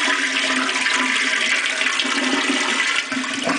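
A toilet flushing in a home bathroom, with a loud, steady rush of water that runs close and continuous for several seconds and no voices.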